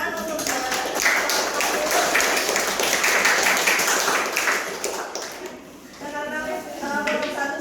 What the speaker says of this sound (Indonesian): Dan saya tepuk tangan untuk